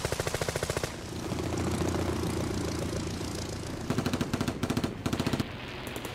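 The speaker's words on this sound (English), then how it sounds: "Two more fall to the barrage of anti-aircraft fire thrown up by the Yorktown and her escorts" Anti-aircraft and machine gun fire from the carrier Yorktown and her escorts against Val dive bombers: rapid bursts of automatic fire, then a steady roaring drone, then more staccato bursts in short volleys, loud but slightly distant.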